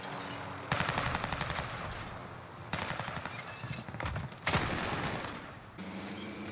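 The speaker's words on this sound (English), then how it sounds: "I'm taking fire!" Rapid automatic gunfire from a Type 11 light machine gun in Call of Duty: Warzone Pacific. It comes as several loud, sustained bursts of dense crackling shots with short gaps between them.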